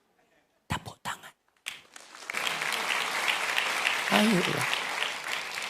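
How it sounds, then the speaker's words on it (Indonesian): A church congregation breaks into sustained applause after a few isolated claps, the clapping swelling loud and steady, with a voice speaking briefly over it. "Tepuk tangan."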